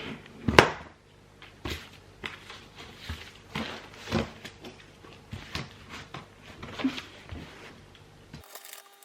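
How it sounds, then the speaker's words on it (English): Cardboard shipping box being cut open, a series of close, sharp scratches and taps spread over several seconds, quiet and without talk. "I have the box here. I'm just going to cut it open now."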